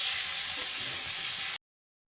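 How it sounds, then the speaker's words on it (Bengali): Moong dal sizzles steadily in a hot pan for rainy-day khichuri, a close, even frying hiss with no voices that runs for about a second and a half, then cuts off abruptly. "ডালটা ভাজা ভাজা হচ্ছে আর জলটা বেশ ফুটে গেছে"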